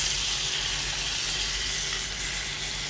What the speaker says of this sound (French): notre canard continue à cuire